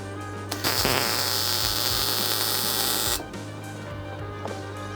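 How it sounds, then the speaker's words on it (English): Welder laying a bead on a Porsche 928 body panel, a steady buzzing crackle lasting a few seconds at close range, then cutting off to a lower background hum. "Let's get on and weld this up then."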